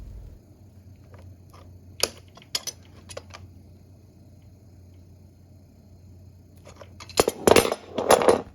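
Fitting on a Samsung refrigerator water filter line being tightened by hand, giving a few sharp metallic clicks and clinks spaced apart, then a denser burst of scraping, clinking handling noise near the end, over a low steady hum.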